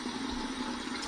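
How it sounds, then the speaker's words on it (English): Cold water runs steadily from a tap, a continuous close rushing stream with no other sounds. "I'm going to run under some cold water here"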